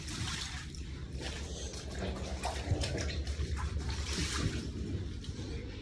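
Water poured steadily by hand, a continuous close trickling and splashing stream that runs for several seconds without pause or talk.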